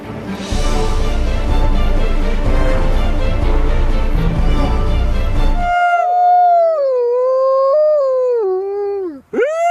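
Several wolfdogs howl together. A dense, noisy chorus fills the first half, then a single long, wavering howl rises and falls on its own and cuts off near the end.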